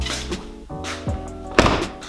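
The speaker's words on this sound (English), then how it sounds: "So let me close this door." A 2020+ Toyota Supra A90 car door swings shut with a single solid, fairly loud thunk near the end, preceded by softer handling noises close by.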